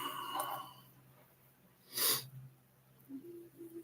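A single short sneeze bursts out once, midway through an otherwise quiet indoor stretch with faint background noise.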